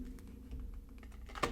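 Tarot cards are shuffled on a desk, giving a quick run of light, crisp clicking riffles, fairly soft and close, that ends in a brief louder snap. No one speaks.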